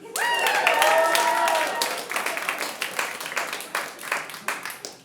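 An audience at a New York stand-up comedy club bursts into applause and cheering, loud at first, then thinning into scattered claps that fade out.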